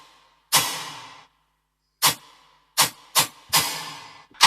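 Toneless, noisy synth lead from a trap drop produced in Logic Pro X: five sharp, bright bursts in a bouncy, uneven rhythm, each with a short decaying tail, separated by silence and loud in the mix.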